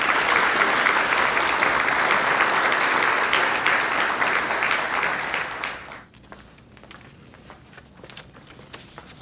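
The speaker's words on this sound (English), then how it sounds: "So let's give a round of applause to Ms. Linda Davis." A dinner audience at an employee retirement celebration breaks into loud, sustained applause that fills the room for about six seconds, then fades out to a few scattered claps and quiet room noise.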